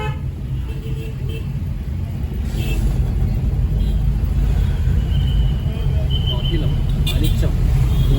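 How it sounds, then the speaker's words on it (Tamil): Road traffic on the Coimbatore bypass makes a steady low rumble of passing cars and buses, with brief horn toots rising over it. "கோயம்புத்தூரில் டிராஃபிக் பஞ்சமே இல்லைங்க."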